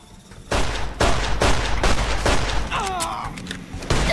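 Gunfire from the player's gun in the video game Fallout: New Vegas, a rapid series of loud, sharp shots in a steady rhythm with a brief tonal game effect between bursts.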